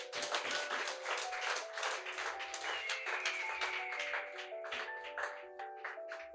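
A church congregation applauds during a sermon with steady, fairly quiet clapping that keeps going throughout, mixed with sustained tones from voices or instruments underneath.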